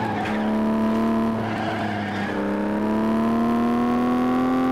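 A car slides and skids through a drift in the FlatOut racing game, with a steady, loud tire squeal rising slowly in pitch over a constant engine drone, close and uninterrupted for several seconds.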